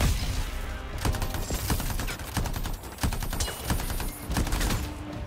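Rapid bursts of gunfire and machine-gun fusillades from the video game Anthem, loud and continuous with sharp overlapping shots and explosions throughout.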